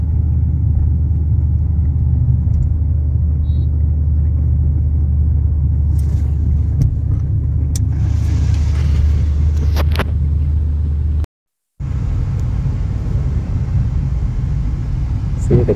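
A car engine pulls steadily while driving uphill, its low rumble building under gentle acceleration as the driver adds throttle; a short dropout breaks the sound near the end, and an instructor talks over it.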